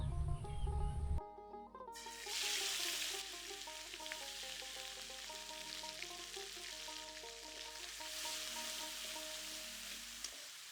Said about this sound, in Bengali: এখন এই মাছ ভাজা তেলের মধ্যে দিয়ে দেব পেঁয়াজ রসুন বাটা জিরে সরিষা বাটা আর কাঁচামরিচ বাটা